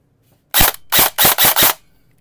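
An airsoft SIG MCX Virtus rifle fires five sharp, loud shots in quick, evenly spaced succession up close, followed by quiet.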